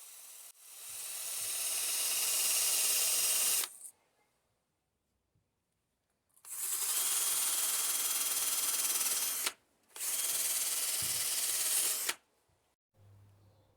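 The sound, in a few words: wire wheel de-rusting a drive shaft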